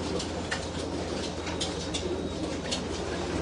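Domestic pigeons, kept as a loft flock and recently treated with Parastop, coo softly and repeatedly, their low murmuring calls blending into a steady, noisy background.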